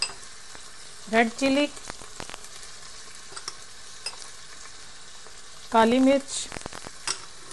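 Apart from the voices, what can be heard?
onion, ginger, garlic, tomato and spices frying and being stirred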